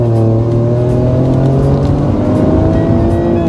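Engine sound inside a Ford Focus Wagon MK4.5 driven in sport mode with the exhaust valve open, a loud steady drone whose pitch rises smoothly as it revs, with no voices.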